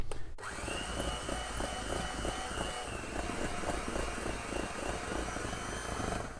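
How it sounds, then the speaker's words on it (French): An electric mixer beats cream in a bowl for a chocolate Christmas log, starting abruptly and then whirring steadily and close, with a faint rhythmic churning as the beaters turn. "Donc on va la battre ici au batteur,"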